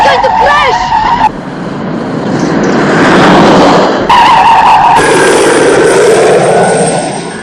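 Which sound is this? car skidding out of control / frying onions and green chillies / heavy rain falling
car skidding out of control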